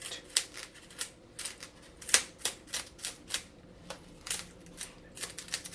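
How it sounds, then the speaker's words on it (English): EPP foam on a Thor glider build is torn and cut out with pliers or an X-Acto knife: a rapid series of sharp close snips and crackles, quiet overall with no talk. "take your pliers or just your X-Acto knife and rip all this EPP out"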